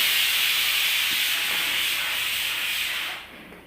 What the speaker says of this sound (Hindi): सीटी बज चुकी है कुकर में।